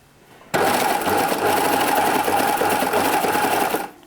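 Serger sewing an overlock seam on a swimsuit, a loud, fast, steady mechanical whirr starting abruptly, running for about three seconds, then stopping, with no talk.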